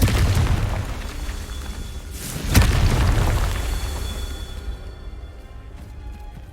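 A Confringo blasting curse explodes in Hogwarts Legacy with one loud, deep boom. The rumbling blast swells, then tails off into a fading roar.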